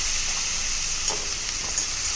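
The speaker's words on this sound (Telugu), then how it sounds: "కొద్దిసేపు మంచిగా నూనెలో వేగిపోయినాయి కదా" Brinjal pieces frying in oil in a pan, a dense, even sizzle and crackle running continuously at close range with small pops scattered through it, no voices.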